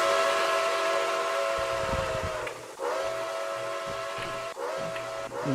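Steam whistle of the Nickel Plate Road 765 locomotive in a video game, a loud, sustained chord blown in long, close blasts with short breaks between them over a low rumble.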